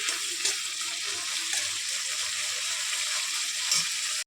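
Mashed taro (maan kochu) is stirred in a hot pan, making a continuous bright hiss broken by soft scraping touches and a short clatter near the end, with no talking.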